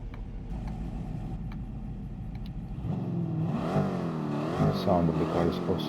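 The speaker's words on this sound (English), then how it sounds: "The sound of the car is awesome." A De Tomaso Mangusta engine in Gran Turismo 7 idles low and steady, then revs up hard with rising and falling sweeps as the car accelerates, loud and close.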